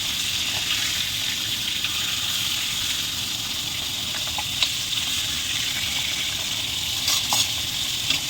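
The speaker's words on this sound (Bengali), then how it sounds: "লাল লাল করে মাথাগুলো ভেজে নেব হ্যাঁ?" Katla fish heads sizzle steadily in hot oil, a continuous close frying hiss with occasional pops and faint clinks, no voices.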